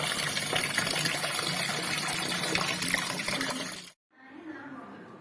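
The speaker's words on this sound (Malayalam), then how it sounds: "വെള്ളം ഒഴിച്ചിടാം." Water pours over rice for washing, a steady close splashing and trickling that runs continuously, then stops abruptly and gives way to quieter dripping.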